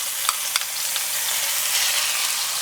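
Garlic and ginger sizzle and fry in rendered chicken fat in a pan, with a steady hiss and a few sharp crackles and stirring taps near the start.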